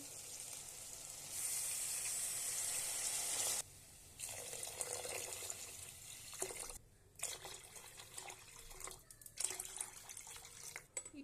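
Water pours steadily into a pot of potato rice, splashing for several seconds with brief pauses, over a faint sizzle.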